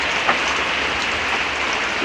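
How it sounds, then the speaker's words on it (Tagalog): Steady rain falling, a dense even hiss of drops with no breaks, fairly close and moderately loud. "unti-unti nang nagsistop ang ulan"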